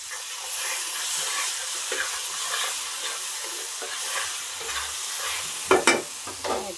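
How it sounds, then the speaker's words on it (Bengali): Hot bagar tempering is poured onto a cooked dish in a kadai and erupts into a loud, steady sizzle and hiss, ending in a few sharp spits and crackles. "বাগারটা ঢেলে দিব।"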